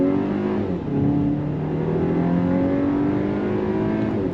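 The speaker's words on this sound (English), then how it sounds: "So you still have the 4-cylinder sound." A 2024 VW Atlas Cross Sport with a four-cylinder engine accelerating on throttle, a steady mid-pitched drone heard from inside the cabin whose tone climbs gradually as revs build, with no talk.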